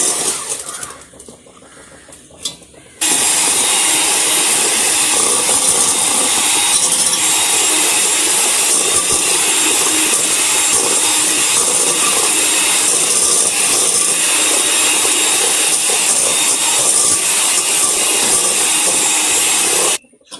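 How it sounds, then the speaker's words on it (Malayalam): Butter and sugar are beaten in a bowl with an electric mixer, producing a loud, continuous high-pitched whirring drone close up that starts suddenly after a quiet moment and runs unbroken before cutting off. "കുറച്ചായി പഞ്ചസാര ഇതിനകത്തേക്ക് ഇട്ട് കൊടുത്ത് നമുക്കൊന്ന് ബീറ്റ് ചെയ്തെടുക്കണം"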